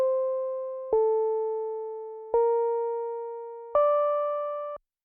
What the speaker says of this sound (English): in the beginning it's just playing the simple melody